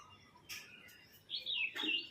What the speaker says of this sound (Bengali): পাখির ডাকটা কুক কুক করছে